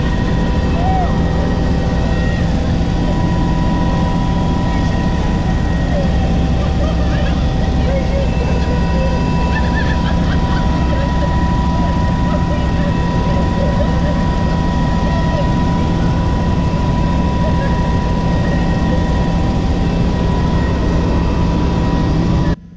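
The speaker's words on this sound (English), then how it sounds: "that gives you an example of that extreme turbulence we were going through in the helicopter" A helicopter flies through extreme turbulence on a flight from Medellin to Guatape: a steady, loud, dense rotor and engine roar fills the whole stretch without letup, heard from inside the cabin.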